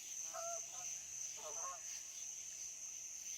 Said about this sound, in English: Something down there disturbed the ducks tonight.